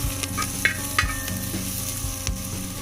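Cardamom, cloves, garlic and ginger sautéing in a pan for chicken stew, giving a steady sizzle punctuated by several sharp spoon clinks and scraping stirs, close and clear with no talking.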